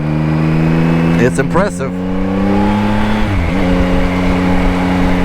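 A 2024 Yamaha XSR900 three-cylinder motorcycle engine pulls steadily up close on a mountain road, with quick rev swings and gear changes partway through while a rider talks briefly over it.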